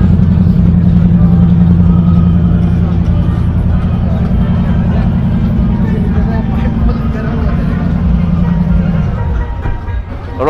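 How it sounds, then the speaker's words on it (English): A 1995 Lexus engine idles loudly and steadily at a motor show with a deep rumbling drone, then the low hum drops off near the end. "the engine is started up. You can see there's much noise coming from this amazing engine"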